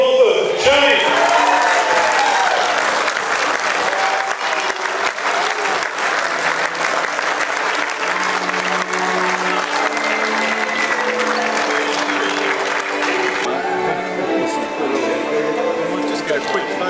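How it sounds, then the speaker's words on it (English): Applause fills a room at a 50th anniversary black tie dinner at The Star Casino as an awardee is welcomed, with steady sustained clapping from a large audience while a presenter talks over it. "Please join me in a big round of applause for our next awardee, which is Shane Bulford"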